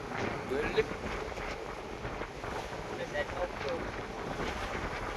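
Stormy wind blows across Okha harbour in Gujarat, where boats have come in to shelter from a cyclone; a faint, steady rush of wind and water continues throughout with a few soft bumps.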